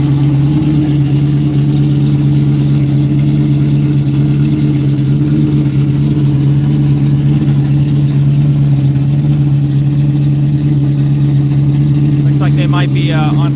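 A race car engine idles steadily while warming up at a Texas Mile top-speed event, a constant low rumble that holds through the whole stretch, with a brief higher-pitched sound near the end.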